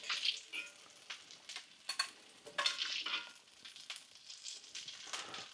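Cumberland sausages frying in their own rendered fat in a pan, a quiet crackling sizzle with sporadic louder spits and stirring scrapes, close but faint.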